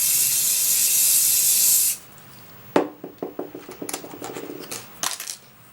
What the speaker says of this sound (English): Now again, hairspray.